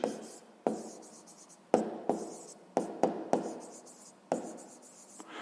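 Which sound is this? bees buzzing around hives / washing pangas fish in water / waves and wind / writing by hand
writing by hand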